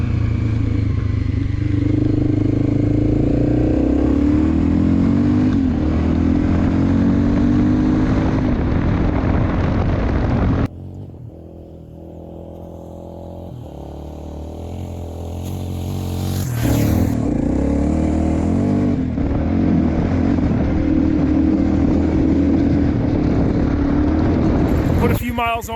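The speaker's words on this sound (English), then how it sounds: "I'm going to take it for a little ride now and get some color on these headers" Honda RFVC single-cylinder dirt bike, such as an XL600R, XR600R or XR650L, with a new cam chain tensioner, ridden past with a loud steady engine drone that dips away mid-ride and then returns as it comes back near.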